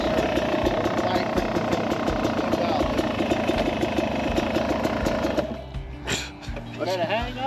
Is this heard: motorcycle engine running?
yes